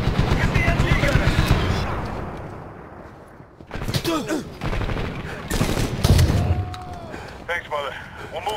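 Bursts of machine gun fire in the shooter Medal of Honor (2010), loud rattling volleys mixed with sharp gunshots and shouted voices, tapering off before renewed firing and a slam.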